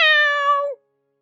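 A single clear cat meow, drawn out for under a second with a bright tonal whine that slides down at the end, close and alone, followed by silence.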